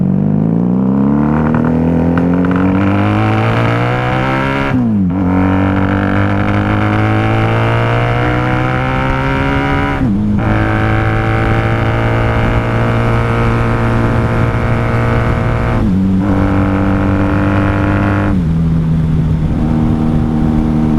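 A 1994 Honda Magna 750 V4 motorcycle engine breathing through Jardine drag pipes without baffles, loud and close, revving up through the gears in long rising pulls, each broken by a brief dip at the shift, with no talking.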